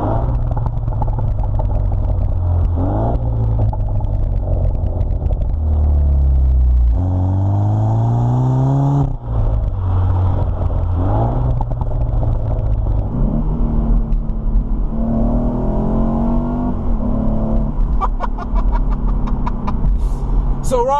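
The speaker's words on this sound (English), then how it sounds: "I don't know if it dumps fuel in the exhaust, it just pops." A 2015 BMW Z4 sDrive20i M Sport engine revs and drops through gears in Sport Plus mode, with a loud exhaust note and pops and crackles on the downshifts, close and continuous.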